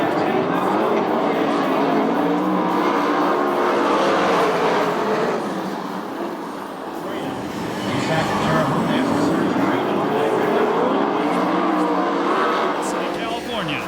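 USAC/CRA sprint cars roar back to speed on the restart of heat race three at Perris, California. Their engines rise and fall in pitch as they pass, loud and continuous beneath an announcer talking.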